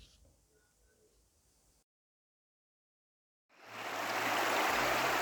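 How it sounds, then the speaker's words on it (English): A river flowing beside a campsite, a tributary of the Ganga, heard as a loud, steady rushing of water that swells in after a brief silence, following a faint quiet stretch. "Next day early morning, we enjoyed the river flowing besides our campsite."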